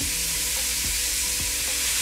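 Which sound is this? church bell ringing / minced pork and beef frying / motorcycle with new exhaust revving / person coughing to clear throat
minced pork and beef frying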